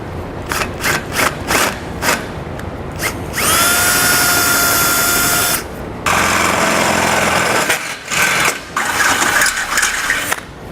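A power drill whines loudly up close, drilling a hole in metal from underneath a 2018 Chevrolet bumper beam, running in bursts, with a steady high-pitched spin in the middle and rattling grinding into metal.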